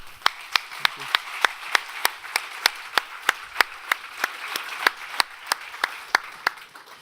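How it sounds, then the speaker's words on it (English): Clapping at a React London meetup in January 2019 after a talk: sharp, evenly spaced claps ring out in a steady rhythm at a moderate level against a quiet room. "Round of applause for Oni."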